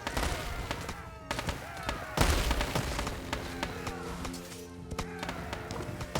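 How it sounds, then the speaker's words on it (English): Cannons boom in a real-time strategy video game battle alongside militiamen and strelets, with sharp repeated blasts and crackling gunfire over busy clicks and tapping, loudest about two seconds in. "With cannons over here."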